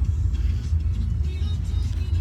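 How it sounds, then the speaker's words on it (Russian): Steady low engine rumble inside a moving car, a continuous droning hum filling the cabin at an even level with no voices over it. "Мы сели в машину и отправляемся."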